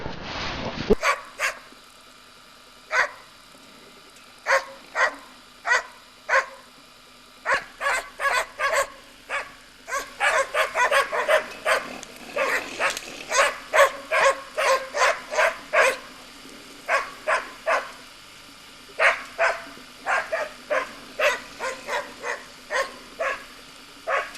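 A Laika hunting dog barks during a hunt in Yakutia, delivering a long series of sharp, loud barks, sometimes spaced, sometimes in rapid bursts, close by outdoors with no talk.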